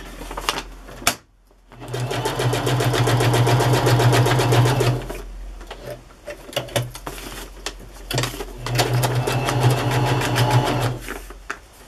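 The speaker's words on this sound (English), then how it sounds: "because it's fabric, I'm using the zigzag stitch to help prevent fraying" Sewing machine running a zigzag stitch on fabric, two sustained bursts of rapid mechanical clatter separated by a short pause, loud and close.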